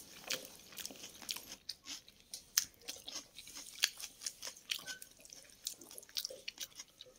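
Someone eats rice mixed with dal and boiled potato by hand, with soft wet chewing and sticky smacking sounds in irregular bursts, close and quiet, no voices.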